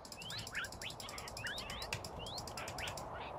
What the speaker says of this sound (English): It makes a crow noise.